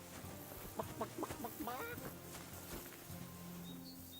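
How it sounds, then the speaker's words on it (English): A run of rapid clucking chicken noises in the Kingdom Come Deliverance 2 video game, several quick bursts close together and fairly quiet, with a voice briefly audible around them. "Was he making chicken noises at me?"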